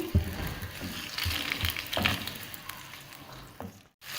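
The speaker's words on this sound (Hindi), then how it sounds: "ऑयल गर्म हो गया, अब मैं इसमें चिकन डाल दूंगी।" Chicken for chow mein sizzles and crackles in hot oil, a steady frying hiss with a few sharper pops, close by and fairly quiet.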